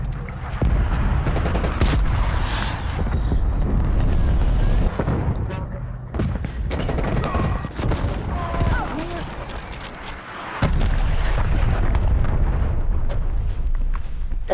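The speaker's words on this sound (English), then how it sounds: "Cruise missile inbound." Cruise missile strikes in Call of Duty: Black Ops Cold War multiplayer on the Rush map, loud heavy booming blasts and rumbling gunfire bursts layered continuously, with voices chattering over the chaos.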